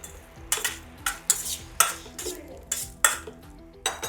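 A spoon mixing curry leaves into a spiced dish in a metal vessel, a series of quick scraping clinks and stirring strokes, close and fairly quiet, with no talk.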